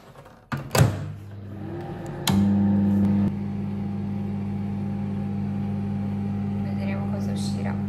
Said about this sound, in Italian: Impasto messo dentro alla ciambellonina, adesso apriamo il microonde qui e vediamo.